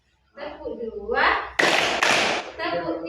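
A classroom of children claps together in a two-beat pattern during an Islamic studies lesson, two loud sharp group claps following a woman's spoken cue.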